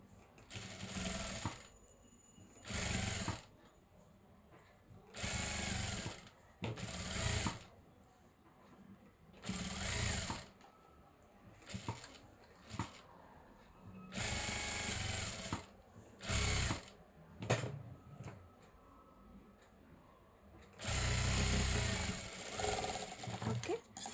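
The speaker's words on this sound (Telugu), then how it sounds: "ఇప్పుడు ఏం చేయాలంటే దీని మీద టాప్ స్టిచ్ ఇలా వేయాలి." A sewing machine top-stitches the ruffle frock for a young girl in repeated bursts of whirring, close and loud, with short pauses between runs of stitching.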